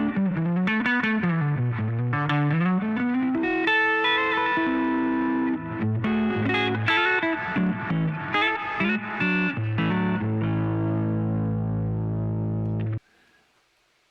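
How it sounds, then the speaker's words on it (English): Clean electric guitar played through a Quad Cortex with chorus and Mindhole reverb: bending melodic notes and chords ringing with shimmering wash, ending on a sustained chord that cuts off into a faint reverb tail. "So this is the clean sound with the reverb."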